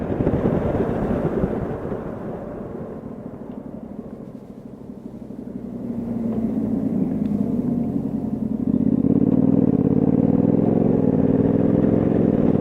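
A car drives through a suburban neighborhood in Oreland, Pennsylvania, turning onto Camp Hill Road, its engine humming from inside the cabin with a dip and then a rising, louder drone as it accelerates.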